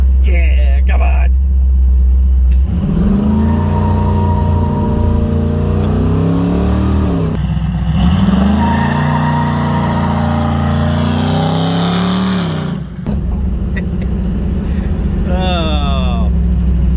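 Chevrolet Nova engine revving hard during a power brake, loud rising and falling surges near the car with people talking over it.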